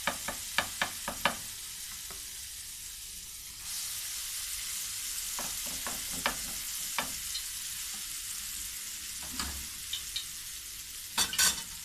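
Round dahi bara made from mash and moong dal batter fry in hot oil with a constant sizzling hiss that swells louder partway through. Sharp spoon clicks and taps against the pan cut in now and then.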